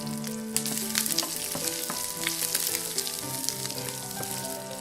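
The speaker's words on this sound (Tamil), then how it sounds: "வெங்காயம் பூண்டெல்லாம் ஓரளவுக்கு வதங்கியாச்சு" Shallots, green chillies, ginger and garlic fry in a pan for Kerala kadala curry (chickpea curry), a steady loud sizzle broken by light clinks and scrapes of stirring, close and without talk.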